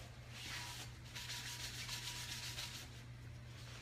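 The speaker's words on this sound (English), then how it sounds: "So just in the sink, I'm giving it a little light brush off with a paper towel." A paper towel brushed lightly over a cast iron pan in a sink, giving a steady, soft dry rubbing and scraping sound in repeated strokes, close and unaccompanied by talk.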